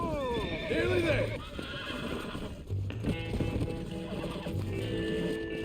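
A horse whinnies loudly and repeatedly in the video game Red Dead Redemption, with clopping hooves and someone speaking over it.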